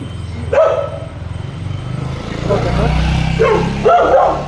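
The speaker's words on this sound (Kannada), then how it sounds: "ಆ ನಾಯಿ ಆ ಮಟ್ಟಕ್ಕೆ ಬಗ್ಳಿದ್ರು." A dog barks a few times, sharp and fairly close, mixed with a rumbling engine and background voices.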